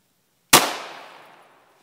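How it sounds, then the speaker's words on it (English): A Hornady Critical Defense .22 Magnum 45-grain FTX round fired from an Automag into a pork shoulder: one sharp, loud shot followed by a decaying echo tail lasting about a second. "we have the second half of the pork shoulder we can shoot because the first shot did not penetrate the entire length, so we are going to shoot the second half"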